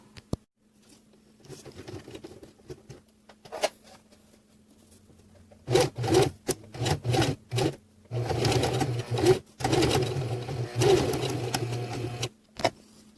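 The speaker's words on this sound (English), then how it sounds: "line those up and then sew right along this line here" A sewing machine stitches a drawstring pouch with a lid, running in a series of short, close bursts of rapid whirring with brief pauses between runs and no talking.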